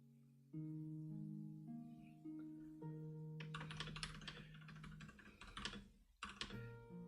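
Fast, clacky typing on a mechanical keyboard, close and crisp, with sharp key strikes in uneven bursts over soft background music and no talk.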